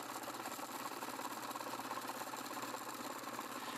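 A small electric motor drives a mechanical kinetic theory simulator, giving a faint, steady, continuous buzzing whir with a fine rapid rattle throughout and no voices.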